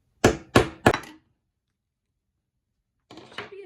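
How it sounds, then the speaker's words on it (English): Three sharp hammer blows set a metal jeans tack button in quick succession, then a pause of silence before a couple more softer knocks and taps. "and give it a good hammer"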